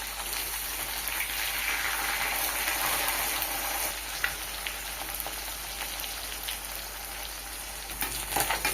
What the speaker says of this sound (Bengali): মাছ মুচমুচে করে ভেজে নিয়েছি